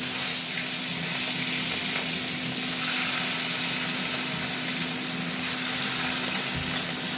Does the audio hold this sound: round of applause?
no